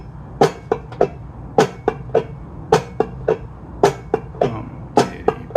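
Clawhammer banjo played in a Bum Ditty strum with muted strings, repeating groups of three sharp percussive strokes in a steady bouncing rhythm, close and dry with no talking.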